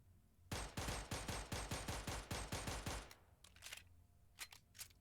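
A Browning Hi-Power pistol fires in a video game, a steady burst of about a dozen sharp, evenly spaced shots over roughly two and a half seconds. Brief clicks and rattles follow in the quieter stretch afterward.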